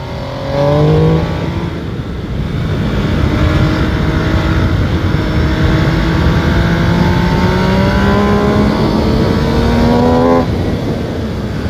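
A 2021 MV Agusta Brutale 800 RR being ridden roars loudly up close, its engine climbing through the revs in long rising pulls with a gear change partway, under steady wind rush.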